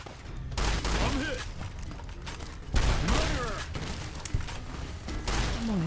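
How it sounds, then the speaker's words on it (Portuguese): Shotgun blasts from the video game Fallout: New Vegas boom at a few scattered moments amid game noise, while a player talks excitedly over them. "tomar um tiro de shot na queima-roupa"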